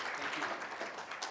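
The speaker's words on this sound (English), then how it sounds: "Let's give him a round of applause." An audience applauds at an entrepreneur leadership talk, a dense, even patter of many hands clapping for a short stretch.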